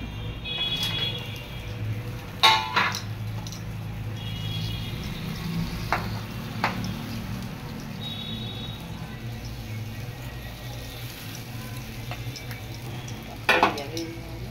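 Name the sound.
fish frying and stirring in spice gravy in pan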